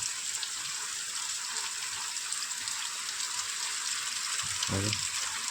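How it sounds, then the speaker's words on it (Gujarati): Heavy rain pours down in a dense, even hiss that holds steady from start to finish, and a voice is heard briefly near the end. "વરસાદ આવે છે ફૂલમ ફૂલ અત્યારે બહાર નીકળે એવું છે નહીં"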